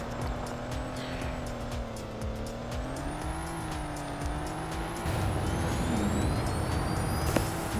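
An Ariel Nomad dune buggy drives in the Roblox game Car Crushers, its engine droning steadily with shifting pitch and tire noise, growing louder and rougher toward the end.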